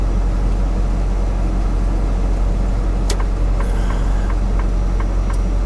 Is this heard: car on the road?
yes